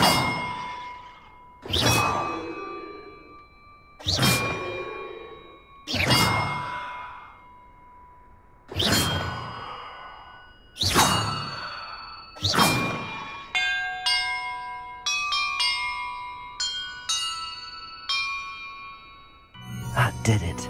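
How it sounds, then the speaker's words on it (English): Bells are rung in sequence in the video game Hogwarts Legacy. Seven loud metallic clangs come at steady intervals, each ringing out and fading, followed by a quick run of lighter chimes and tinkles as a treasure jingle. "Perhaps the map contains clues about the order I'm supposed to ring the bells in."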